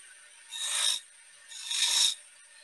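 A wood lathe as a skew or gouge cuts beads, two separate bursts of bright rasping shaving noise, each lasting about half a second, close by with quiet between them.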